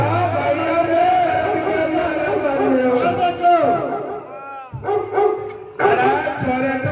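A dog barks several times amid loud, overlapping voices and general commotion at a Ramlila performance, the barks partly buried in the busy mix.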